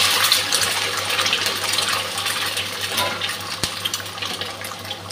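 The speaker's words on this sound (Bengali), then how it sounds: "ডিমটা ভেজে নিচ্ছি আগে।" An egg sizzling and spitting in hot oil in a pan for a potato and drumstick egg curry, a steady close crackle with one sharp tap partway through.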